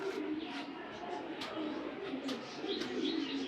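Young racer pigeons from a racing club coo softly in a low continuous burble, with a few brief sharper chirps or clicks scattered through; moderately distant and fairly quiet, no clear voices.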